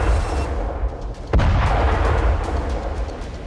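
Rocket barrage striking an industrial corridor in Israel near the Lebanon border, heard as a loud sudden blast about a third of the way in, followed by a rumbling roar over continuous dense low booming.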